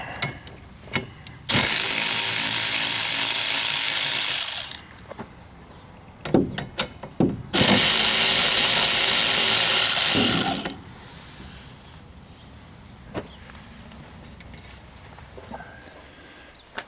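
Power tool spinning off the 15mm nuts on the wiper arms of a 2006 Chevy HHR, two loud sustained whirring bursts of about three seconds each, separated and followed by scattered clicks and clanks of tool handling.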